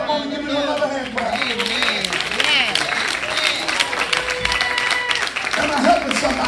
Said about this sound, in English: Come on and give me another hand clap.